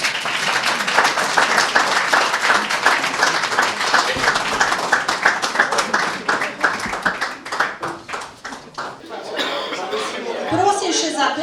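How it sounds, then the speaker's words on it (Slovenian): Audience applause at a formal award ceremony honouring volunteers, dense loud clapping that carries on for several seconds before thinning out, with chatter and a few chuckles rising near the end. "Vas, publika, pa prosim, da jih spodbudite z aplavzom"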